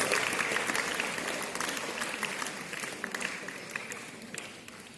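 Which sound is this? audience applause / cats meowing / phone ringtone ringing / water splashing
audience applause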